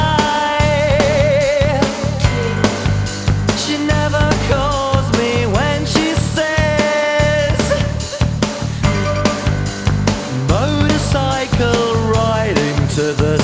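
Dramatic orchestral-pop song by a large band, with dense strings, drums and a sung vocal line playing continuously at full volume.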